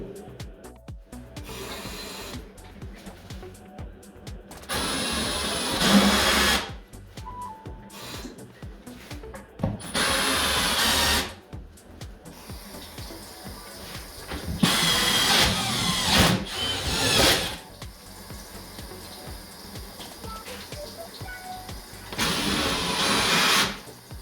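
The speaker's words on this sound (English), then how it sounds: "drill a little bit, run it under a tap, drill a little bit more until we're all the way through" A power drill with a carbide bit grinds into tile in repeated short bursts, separated by pauses with quieter handling noises.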